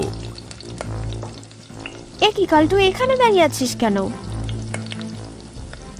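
Palm fruit fritters frying in oil make a steady sizzle in a cartoon kitchen, with a voice speaking over the middle of it.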